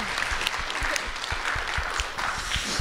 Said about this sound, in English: We're going to clap for you too.